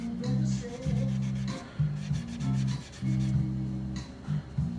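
Steel wool rubbed back and forth on a Telecaster guitar part, a close raspy scrubbing in repeated strokes of roughly half a second, with short pauses between, no voices.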